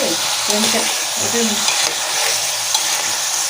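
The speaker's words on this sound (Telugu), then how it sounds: "ఉప్పు వేసి కలుపుతాను" Salt is stirred into bottle gourd curry frying in a pan, giving a loud, continuous sizzle with steady scraping strokes of the spoon close up, and no one talks.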